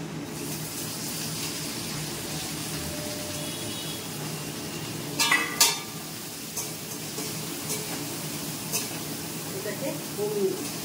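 Chopped carrots, chillies, beans and capsicum for chow mein hiss in a pan with a steady low sizzle, interrupted by a few sharp clattering stirs near the middle and a faint scrape toward the end.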